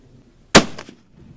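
A single sharp rifle shot from a .270 Browning X-Bolt firing Federal ammunition, one loud crack with a short rolling echo trailing off in an otherwise quiet outdoor setting.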